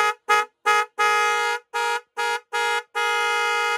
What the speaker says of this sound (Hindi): इसके बाद नेक्स्ट जो अपनी बाइक स्कूटी कार के अंदर लगा सकते हो वो है ये T90 का हॉर्न